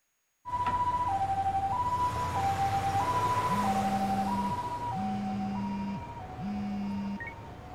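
An ambulance siren in the Lost Judgment video game wails in a steady two-tone pattern, loud and close, with a second lower siren joining partway through and no talking.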